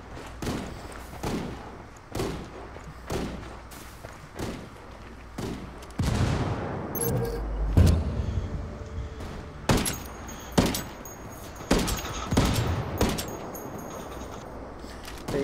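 Gunfire in the tactical shooter Ghost Recon Wildlands, single shots cracking at a steady rhythm, then a denser burst of rapid fire and thuds midway, loud and close, with no talking.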